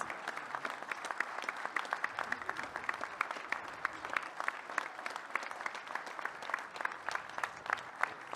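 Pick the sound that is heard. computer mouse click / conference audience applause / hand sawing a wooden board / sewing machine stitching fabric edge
conference audience applause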